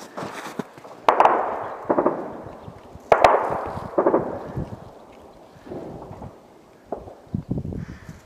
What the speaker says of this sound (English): Flashes are coming off from the new terminal. People are in there shooting out here.